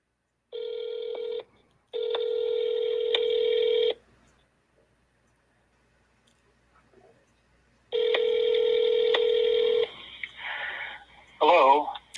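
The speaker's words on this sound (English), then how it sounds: "See, there's my phone. It dials to some music." A phone dialing plays a tuneful, musical tone sequence in two clear bursts, followed by a further long burst and then a short trilling ring. Each burst is loud and close, with quiet gaps between them.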